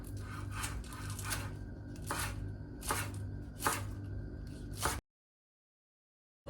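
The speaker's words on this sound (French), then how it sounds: "Je taille les oignons blancs à peu près la même taille que les carottes et les choux." A knife cuts white onions into julienne on a cutting board in a series of quick bursts of rasping strokes, close and fairly quiet, with short pauses between runs and a low background hum.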